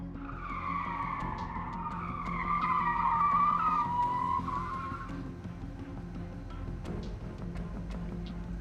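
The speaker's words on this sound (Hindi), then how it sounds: "जोरों से गाड़ी के ब्रेक लगाता है" Car braking hard with its tires skidding: a loud, rising and falling screech lasting several seconds over engine and road noise, then fading to a low rumble with scattered clicks.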